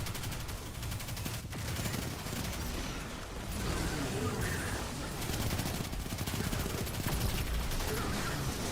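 The Risk Runner auto rifle from the shooter game Destiny 2 fires in long, dense automatic bursts, loud and continuous with rapid rhythmic shots and game effects blended underneath.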